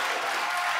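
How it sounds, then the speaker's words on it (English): A crowd at a CS:GO esports match breaks into applause and cheering, a dense, even wash of clapping lasting under a second with no talk on top. "and the crowd like that one"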